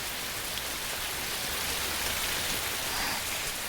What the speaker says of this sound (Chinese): 哎呀，下雨了呀！